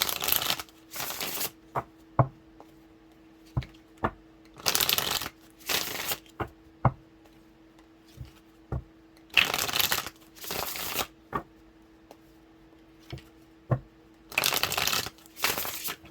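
Tarot cards are shuffled by hand in repeated short bursts of riffling and crisp flicks, separated by brief pauses and single taps, close and clear with no talking.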